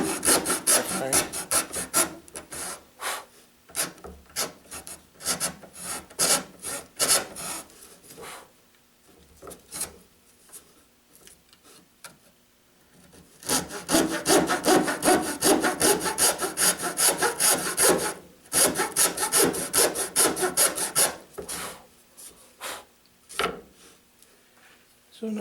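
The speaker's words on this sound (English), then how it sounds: "Maybe a little slower to cut the notches by hand, but it's easier to control the accuracy of the cut" Notches are cut into wood by hand with a saw, producing bursts of rapid back-and-forth rasping strokes, close up, separated by quieter pauses.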